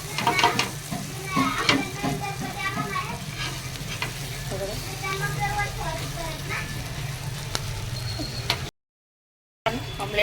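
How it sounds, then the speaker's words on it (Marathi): Chopped onion and green chillies with salt fry in a hot pan, giving a steady, close crackling sizzle that runs continuously with brief quiet murmurs and a short dropout near the end. "फ्राय होतं आहे कांदा हिरवी मिरची टाकलेली फक्त आणि मीठ"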